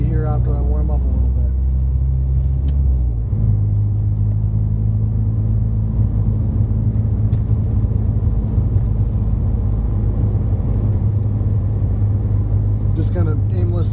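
Interior engine drone of a car with a boosted engine at 16 psi, driven around aimlessly, a steady close rumble whose pitch drops slightly a few seconds in and then holds evenly.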